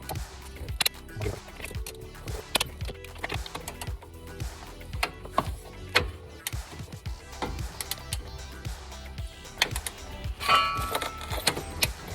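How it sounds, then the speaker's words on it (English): A torque wrench ratchets on car bolts of a S550 Mustang brace, set to 66 foot-pounds, making a long run of quick, sharp, close clicks in irregular bursts. "So we preset the torque wrench."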